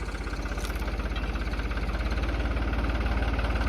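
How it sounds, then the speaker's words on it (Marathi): An International tractor engine idles close by, with a steady, even knocking throb and a low rumble, and no voices over it. "ते ट्रॅक्टर तर इंटरनॅशनल आहेच"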